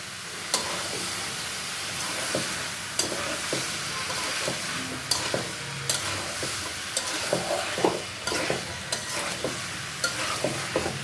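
Chopped vegetables stir-fry in a pan, a steady sizzle broken by repeated clatters and scrapes of a spoon against the pan, close and even throughout.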